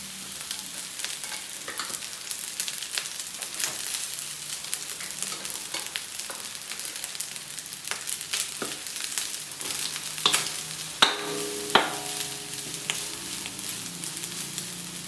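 Spicy adobo fried rice stir-fried in a pan with its adobo oil, a steady close sizzle broken by sharp scraping clinks of a spatula against the pan near the end.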